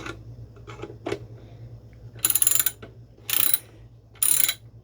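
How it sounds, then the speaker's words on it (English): A 13 ratchet snugs the lower control arm bolts on a 1977 C3 Corvette, with a few faint clicks early, then three loud, close bursts of rapid ratcheting clicks separated by short pauses. "I'm going to tighten it up with a number 13 here and a number 13 here"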